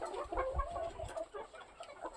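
Chickens clucking in short, irregular bursts, fairly close, with a few overlapping calls and low scuffling underneath.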